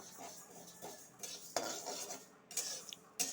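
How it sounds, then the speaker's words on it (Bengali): A metal spoon stirs mung dal in a hot wok, giving scattered clinks and scraping taps in an uneven rhythm over a faint, quiet sizzle. "কড়াইটা গরম হয়ে গেছে মুগ ডালটা অল্প ভাজে ভেজে নিব"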